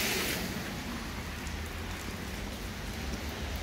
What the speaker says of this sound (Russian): это еще не ливень, а так просто моросит два дня дождик